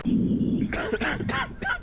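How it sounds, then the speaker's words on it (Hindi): A zombie in a video game coughs in several rough, hoarse bursts after a low rasping breath, close and loud. "अरे बहुत खांसी हो रही है इसे।"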